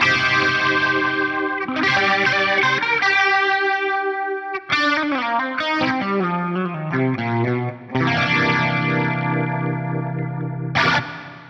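Electric guitar run through an Axe-Fx III with an envelope modifier ramping up the effect, heavily processed with chorus and distortion, sustained chords and melodic lines swelling and shifting, loud and close with no talking.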